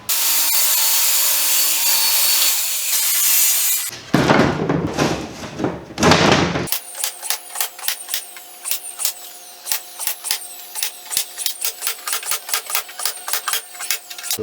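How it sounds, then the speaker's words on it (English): Saw cutting through a plywood sheet for a chicken coop floor in a hot garage, a steady loud rasp at first, then a pause and a run of short, rhythmic cutting strokes. "Alright, now it's time to cut the plywood."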